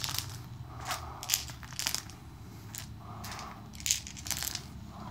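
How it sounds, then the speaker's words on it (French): Dice clatter and rattle in a few quick bursts against a hard surface during a Las Vegas board game, close and fairly quiet, with small clicks between. "chaque joueur va lancer ses dés simultanément"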